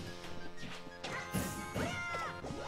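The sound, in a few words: shield smash hit in Super Smash Bros. video game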